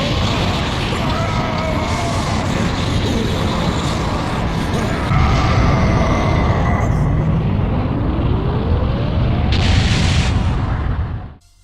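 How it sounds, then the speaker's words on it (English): A massive explosion roars with a deep, sustained rumble and debris-like crackle, swelling in the middle before cutting off abruptly at the end. "A massive explosion erupted in the city."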